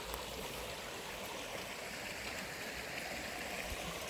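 A brook flowing through woods in Northern Maine on a hot day, a steady soft rush and trickle of running water, even and continuous, fairly quiet and with no voices.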